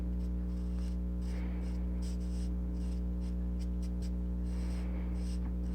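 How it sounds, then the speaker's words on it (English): A chisel-point Sharpie marker scratches a deckled edge along a paper card in quick, faint, close strokes, heard over a strong constant electrical hum. "get my chisel point Sharpie and put a little deckled edge on this"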